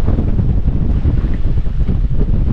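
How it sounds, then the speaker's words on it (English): Wind buffeting a microphone on a boat drifting at sea with no current, a loud continuous low rumbling roar with gusty fluctuations and a faint wash of water underneath, no voices. "I'm just drifting with the wind"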